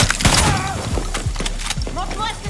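Gunshots in the video game Far Cry 6, several sharp shots and booms mixed with loud game dialogue and speech throughout.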